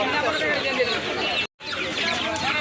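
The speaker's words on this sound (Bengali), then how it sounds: "তো এটা হইতেছে আপনার পাকিস্তানি মুরগি আর সোনালি মুরগি" Many chickens, Pakistani and Sonali breeds, cluck and murmur close by at a busy, crowded poultry market in Sirajdikhan, Munshiganj, with people talking over them and a brief dropout midway.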